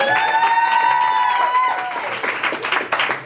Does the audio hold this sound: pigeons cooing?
no